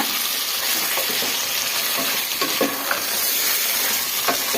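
Marinated chicken pieces fry in oil in a pot for chicken saaru, giving a continuous moderate sizzle broken by scraping stirs and small pops, with no voices.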